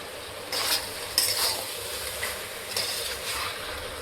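Chicken being stirred with Kashmiri chilli powder in a pan for Chicken Varave, giving a steady sizzle with several scraping stirs of the spoon at close range and no talk.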